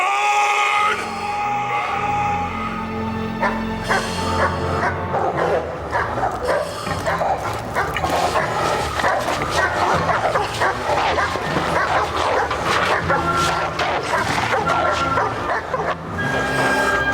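Several dogs bark repeatedly out on a hillside, loud and overlapping yips and barks running throughout, mixed with shouted calls and talk.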